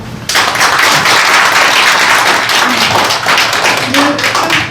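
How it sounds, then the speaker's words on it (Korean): An audience breaks into loud, sustained applause with dense clapping that swells quickly and holds steady for several seconds, filling the room up close. "다시 한번 뜨거운 박수 부탁드립니다"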